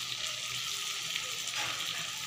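Chicken curry masala sizzling in oil in a pan, a steady close frying hiss with soft crackles, no voices over it.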